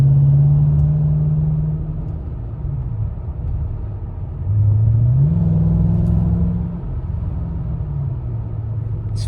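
A 2005 Mercedes CL55 engine hums low and steady while driving, with its pitch rising and falling through gear changes. The sound is loud and close, with a smooth rumbling tone and no talk.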